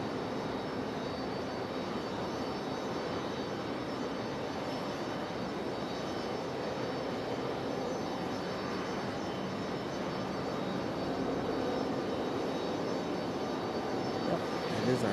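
A Boeing 757 jet taxis slowly toward the end of the runway at Raleigh-Durham International Airport, a steady, broad engine roar holding at an even level throughout with faint background voices.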